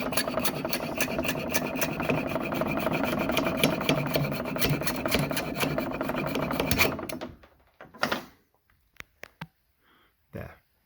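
Hand filing a cast pewter piece, a steady rasping scrape repeated rapidly for several seconds, then stopping into near silence broken by a few short knocks and rubs.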